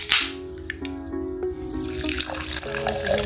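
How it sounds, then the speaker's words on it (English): Sparkling water pours into a glass for pomegranate lemonade, a loud close splash and gurgle with rising tonal ringing as the glass fills, then fizzing crackle of bubbles. "First, add sparkling water."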